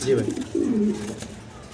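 Young jet-black pigeons coo up close, low rolling coos repeating steadily with a soft murmuring rhythm.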